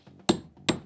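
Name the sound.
hammering nails back into a hole template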